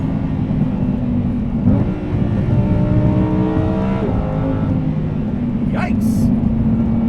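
A 2020 Lamborghini Huracan Evo engine winds up hard through the gears, its pitch climbing in repeated rising sweeps with shift breaks, loud and close over a steady roar, with brief voices over it.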